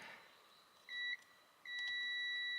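A multimeter beeps during a continuity test on car wiring: one short tone, a pause, then a longer steady beep. The tones are clear and close over faint background hiss, with no talk.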